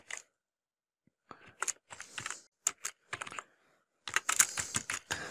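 Keys clatter on a computer keyboard while text goes into a Google Docs document, quiet irregular clusters of taps with short pauses and a faster flurry at the end.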